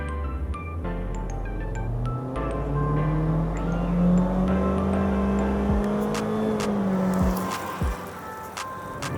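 A 2023 Honda HR-V in sport mode is floored from inside the cabin, its engine drone climbing steadily in pitch over several seconds before easing off, loud and continuous with no talking.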